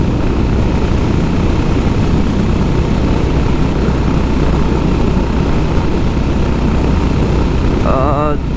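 Honda Highness CB 350 motorcycle engine while riding, a steady loud drone with wind rush that holds constant throughout, with a brief tonal warble near the end.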